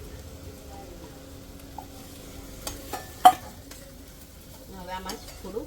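Potatoes being stirred into frying masala with turmeric and red chilli powder in a pan: quiet scraping of a spoon against the metal, a few sharp clinks and a soft sizzle underneath.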